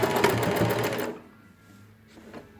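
A sewing machine stitches a backstitch in a quick, loud burst of rapid needle clatter lasting about a second, then stops, leaving quiet room tone with faint small handling noises.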